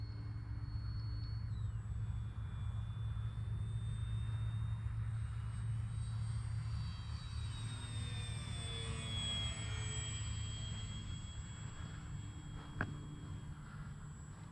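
An XFly Glastar V2 RC plane flying on 3S power during its maiden flight: a continuous motor whine that rises and falls in pitch as it passes, over steady wind rumble, with no talking.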